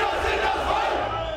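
Anti-Pegida counter-protesters in the streets of Dresden jeer at a passing march, a dense, sustained crowd roar of booing and shouting heard from close range, no distinct single voice.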